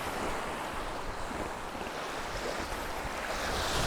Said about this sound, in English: So this is the beach.